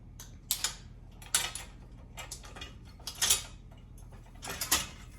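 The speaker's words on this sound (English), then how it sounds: "We're going to add our rear gate now. Add both locking pins." Metal locking pins being fitted into the rear swing gate of a VEVOR utility wagon during assembly, giving several short, faint clicks and rattles spaced unevenly, with no one speaking.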